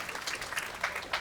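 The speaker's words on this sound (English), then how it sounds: "So give yourself a round of applause." Wedding guests clap briefly at a toast in a hotel, a short, fairly quiet patter of applause with no talk over it.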